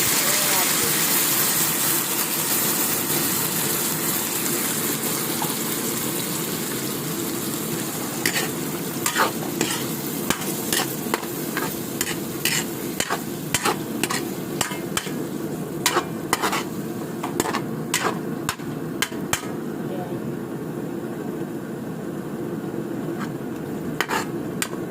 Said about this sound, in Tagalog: Ayan, kumukulo na yung ating century tuna.